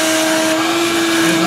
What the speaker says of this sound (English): Using the vacuum.